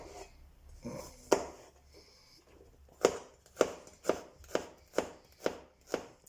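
Garlic being chopped with a knife on a cutting board in a home kitchen while making spaghetti with minced meat: a few scattered taps, then a steady run of about seven crisp, evenly spaced chops, close and clear with no talking.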